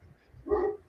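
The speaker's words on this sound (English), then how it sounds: "sorry, dog and the mailman, maybe, I'm not sure, in the background" A single short dog bark, faint and distant in the background, lasting under half a second.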